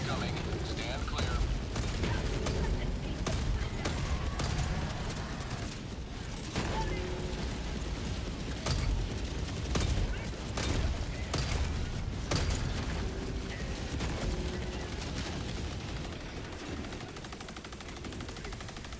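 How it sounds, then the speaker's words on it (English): An orbital barrage pounds the ground in Helldivers 2, a long run of sharp, heavy blasts and gunfire-like cracks repeating over a dense, loud rumble, with voices talking underneath. "Orbital barrage incoming. Stand clear."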